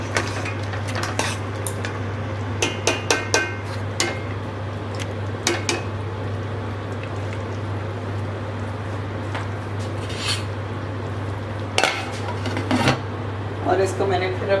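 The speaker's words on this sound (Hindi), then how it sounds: "और इसको मैं प्रॉपर मिक्स वेल कर रही हूँ।" Spoon scraping and clinking against a pot while mutton biryani ingredients are mixed, with soft stirring and scattered metallic taps over a steady low hum from the stove.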